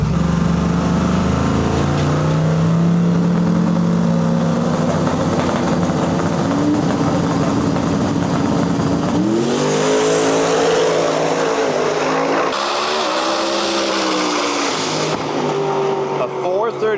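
John Cuglietta's new Edge Mustang "Balboa" and another drag race car in the last qualifier before eliminations: engines roar loud and continuous, rising sharply in pitch as the cars launch down the track, while a commentator talks over them.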